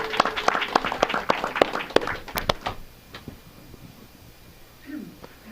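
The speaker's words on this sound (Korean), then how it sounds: "다시 한번 박수 한번 쳐주겠습니다" Church congregation at a Sunday service clapping for the young adults, a short burst of sharp hand claps that fades out after about three seconds into a quiet hall with faint murmuring.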